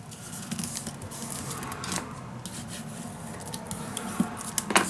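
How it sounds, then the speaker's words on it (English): Paper is creased and folded by hand for a steampunk dos-a-dos mini album, with soft rubbing and scraping touches and a few crisp crackles, close and fairly quiet. "And then I'm just gonna"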